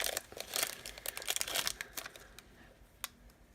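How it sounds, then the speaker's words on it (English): Packaged grid washi tapes from a kit are unwrapped close by, with crackly plastic crinkling and a few tearing rustles, busiest at first and then thinning into sparse crackles, and no voices. "it looks like I'm gonna have to do a lot of unwrapping"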